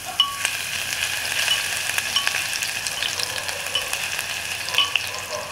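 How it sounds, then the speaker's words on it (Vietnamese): Chili, shallot and garlic frying in a very hot clay pot, giving a steady, close sizzling crackle with small pops and stirring clinks throughout, no talking. "Rồi mình cho ít ớt, hành,"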